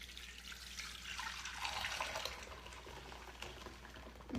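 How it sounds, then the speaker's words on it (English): Blended nut milk is poured into a nut milk bag, making a quiet, continuous liquid splashing and trickling with no voices. "now I'm gonna pour it into the nut milk bag."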